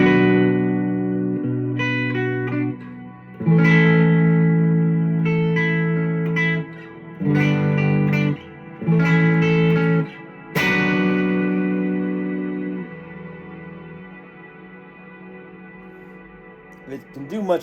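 Electric guitar played through a Catalinbread Sinkhole ethereal reverb pedal set as a plain reverb, modulation down and reverb high: sustained chords and single notes ring out with long washing tails that fade slowly into silence.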